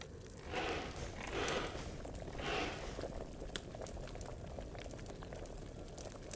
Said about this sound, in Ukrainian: Добавляємо жару з допомогою міхів.